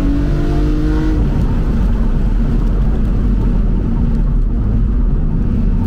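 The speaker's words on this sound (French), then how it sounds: "on entend le bruit de l'air qui fait résonner ce carbone sous le capot" A BMW Z4 engine drones loudly at high revs, intake air resonating through a carbon hood: a dense roaring rush of air and rumble that briefly holds a tonal whine before settling into steady noise.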